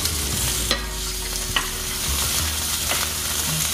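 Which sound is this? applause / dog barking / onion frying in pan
onion frying in pan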